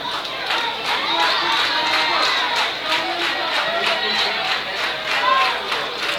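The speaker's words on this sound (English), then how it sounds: "Crowd trying to get the Knights ignited here." A baseball crowd at Jerry Boatner Field in Collinsville cheers for the Knights: a steady wash of shouts, whoops and chatter from many voices, fairly close and continuous throughout, with a few higher yells rising above the din.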